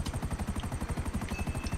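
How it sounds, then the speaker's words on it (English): Helicopter from the GTA V Online video game, its rotor thumping in a fast steady rhythm, loud and close throughout, with a faint high whine above and no voices. "get to the chopper"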